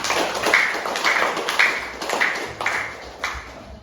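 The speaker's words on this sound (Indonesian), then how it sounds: "Ya sudah, tepuk tangan." Slow, rhythmic group clapping in a classroom coaching session, roughly half a dozen strong beats at even intervals over a steady background hiss.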